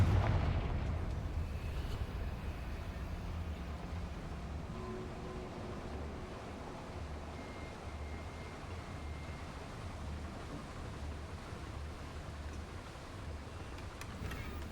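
A Confringo blasting spell in a Harry Potter video game sets off one deep explosion. Its burst fades into a long low rumbling tail that lingers steadily under faint ambient noise.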